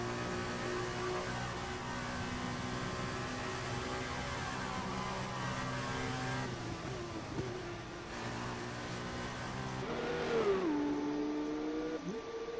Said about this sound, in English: Listen to the engine roar under that little tunnel.